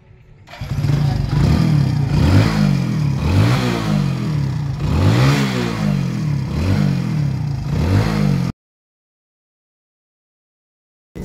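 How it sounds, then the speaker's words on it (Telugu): A motorbike engine, cleaned with a diesel engine flush, starts and runs at close range for about eight seconds, idling with repeated rhythmic throttle blips, then stops abruptly into silence. "బండి అనేది ఇప్పుడు నేను మళ్ళీ స్టార్ట్ చేస్తాను"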